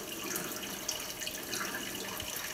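A pump in a saltwater aquarium churns the water surface, a faint, steady gurgle and splash with soft irregular bubbling and small surges, heard alone.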